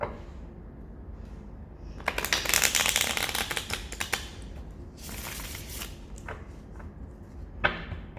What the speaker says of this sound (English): So just one more shuffle.